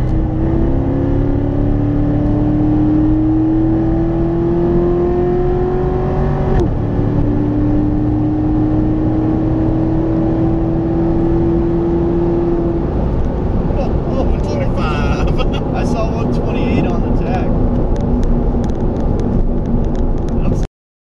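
A 2014 Corvette Stingray Z51 accelerating hard on an open road, its engine note climbing steadily, dropping briefly at a gear change, then climbing again as a loud, sustained roar close by.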